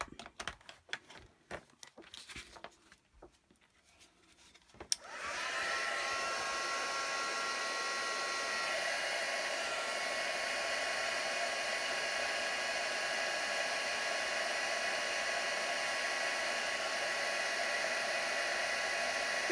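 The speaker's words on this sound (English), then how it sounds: "I'm just going to grab my heat tool and heat set that." Heat embossing tool switching on and blowing steadily to heat-set embossing powder on a card background, a loud continuous whir that holds to the end after a few seconds of quiet handling and shuffling.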